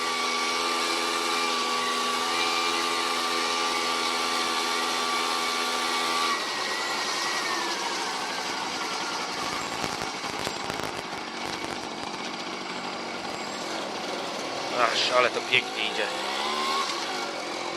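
A Romet Ogar 200 moped engine drones steadily and close while riding, its pitch rising and falling as it revs, with wind and road noise building midway.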